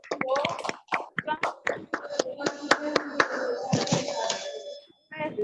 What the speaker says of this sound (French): Ouvrez vos micros pour applaudir les 2 orateurs d'aujourd'hui.